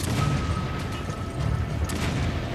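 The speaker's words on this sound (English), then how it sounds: "Shotgun." A shotgun booms on a ship deck in Resident Evil 5, one blast buried in a dense, roaring wash of gunfire and noise with no clear gap.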